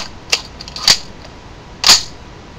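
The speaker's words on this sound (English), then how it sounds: "just like any other gas gun, it sounds really nice." G&P WOC gas blowback airsoft rifle dry-firing without a magazine, three crisp snappy clacks of the bolt, close and loud, with a quiet pause between them.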